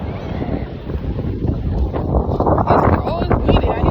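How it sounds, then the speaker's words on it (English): Wind blowing hard at the beach, roaring and buffeting the microphone in loud, uneven gusts throughout, with indistinct voices of people nearby mixed into the rush. "Oh, it's windy out here."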